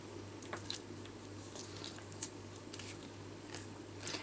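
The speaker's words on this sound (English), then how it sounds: "I have slowly been cutting all of these bits here" Scissors cutting small pieces of paper card for a layered tree card, giving a series of sparse, close snips and crisp clicks over a low steady hum.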